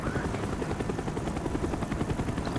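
A helicopter flies overhead in Call of Duty: Black Ops on a night island mission, with a loud, pulsing low rotor thump and noisy wash holding steady over the whole stretch.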